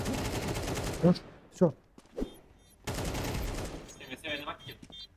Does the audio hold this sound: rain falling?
no